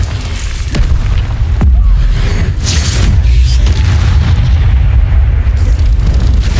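A Confringo fire spell exploding in the video game Hogwarts Legacy, a heavy booming rumble that swells into a sustained roar with a few sharp bursts, loud and close.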